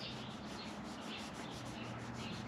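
Steady, fine rubbing hiss of 3000 grit sandpaper worked back and forth over a surface, continuous and close, with no talking.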